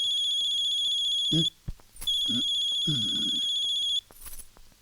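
A telephone rings in repeated electronic bursts, loud and close, with short pauses between rings and brief vocal sounds in between.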